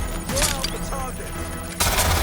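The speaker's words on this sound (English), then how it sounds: "Suspect is shooting!" Gunfire from a suspect in Watch Dogs: Legion, a rapid burst of sharp shots up close, running into a second loud volley near the end, with game sounds and voices mixed underneath.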